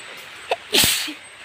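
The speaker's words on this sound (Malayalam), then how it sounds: "അയ്യോ തുമ്മല" A single sharp sneeze bursts out close by, preceded by a brief small intake, then quiet background hiss.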